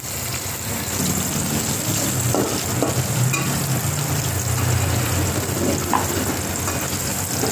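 Shrimp pulao fries steadily in a pan with a dense, even sizzle and scraping stirs on top, close and continuous with no talking.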